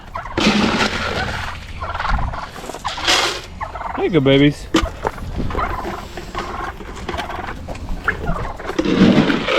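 Turkeys gobble repeatedly in quick rattling bursts nearby while being fed corn outdoors alongside ducks. A person speaks briefly between the calls.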